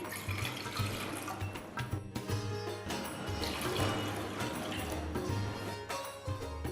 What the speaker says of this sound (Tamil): சாஸ்பேனில் 3 கப் தண்ணி ஊற்றி